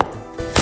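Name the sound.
knife chopping ginger and garlic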